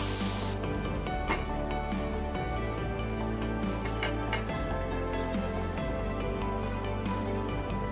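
Vellappam rice batter ladled into a hot vellappam pan gives a steady, fairly loud sizzling hiss that runs the whole time over soft tonal background sound, with no speech.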